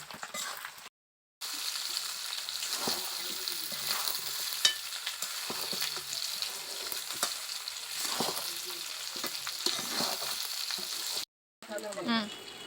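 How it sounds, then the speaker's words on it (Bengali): Chicken curry pieces sauté with spices in a pan, a steady close sizzle and frying hiss with repeated scraping stirs, loud and unbroken apart from two short cuts. "দেখুন বন্ধুরা, মাংসটা কিন্তু প্রায় কষানো হয়ে এসেছে।"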